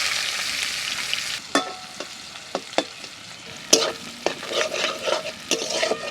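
Bay leaf, dried chilli, cumin and onion fry in hot oil with a steady sizzle, broken by sharp scrapes and clacks of a spoon stirring the pan.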